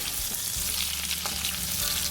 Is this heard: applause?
no